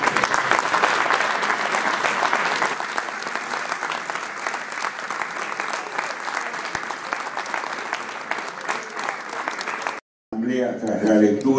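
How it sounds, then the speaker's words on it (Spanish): A sustained, dense round of applause from an audience at a public reading breaks out and holds steadily for about ten seconds, cutting off abruptly before a voice begins speaking. "el aplauso con que ha sido rubricada esta lectura"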